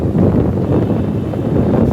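Cold wind blows outdoors in the hill town of Nainital, a steady broadband rush buffeting the microphone with low rumbling gusts throughout, with no speech.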